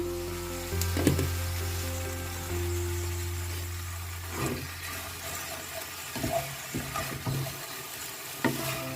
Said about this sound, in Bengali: আমি একটু নাড়া দিয়ে নিচ্ছি, ঢেকে রেখেছিলাম।